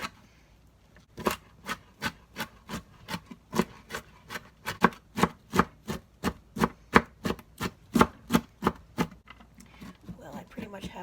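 Cabbage being chopped for coleslaw with a knife on a board, a steady series of about twenty-five crisp, evenly spaced cuts, close and clear, with a little talk at the end.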